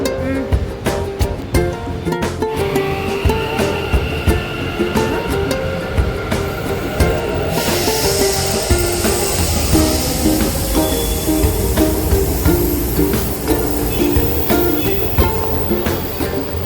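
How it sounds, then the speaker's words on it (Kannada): A Bangalore metro train running on a rainy day, heard from on board as a steady loud rumble and rolling hum that carries on throughout, with a brighter hiss rising partway through. "ಮೆಟ್ರೋಗೆ ಬಂದಿದ್ದೀವಿ."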